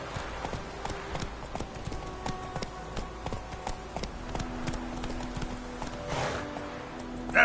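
Hooves of Geralt's horse Roach from Witcher 3 clip-clop in a steady rhythm under game music, with a brief snort or whinny near the end.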